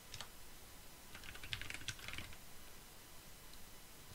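Computer keyboard struck in a few quick bursts of shortcut keystrokes, light clicky taps clustered together and fairly faint, followed by quiet room tone.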